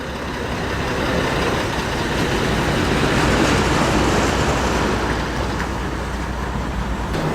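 Vintage AEC Marshall long-wheelbase flatbed truck arriving at a truck stop gathering, a loud sustained diesel rumble that swells as it draws near, then holds steady with rattling and road noise.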